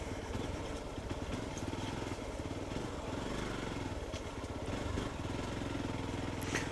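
A Hero Xpulse 200 4V motorcycle chugs steadily through deep monsoon mud, its engine giving a continuous, moderately loud rumble with faint clattering and no talking.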